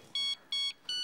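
A mobile phone rings with a bright electronic ringtone, three evenly spaced beeping bursts separated by short gaps, clear and close with no talking over it.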